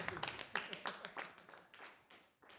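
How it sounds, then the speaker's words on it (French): An audience at the Prix Kalou 2026 award ceremony claps for the jury: a quiet, brisk patter of many hands that thins and fades toward the end. "On peut applaudir justement ce jury d'exception."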